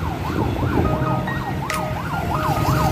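An ambulance siren wails in a rapid, repeating up-and-down pattern along a road at night in Marikina, loud and steady over heavy road and engine noise.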